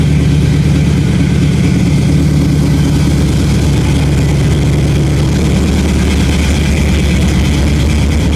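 LS-swapped Chevrolet El Camino engine running steadily at a raised idle that won't settle down, a loud, close, continuous rumble with no speech.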